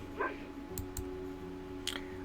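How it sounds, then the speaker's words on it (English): Bulldog in the game Reverse: 1999 giving a short bark early on, followed by faint clicks over a steady hum, quiet and close. "the bulldog who has lost her friends barked helplessly"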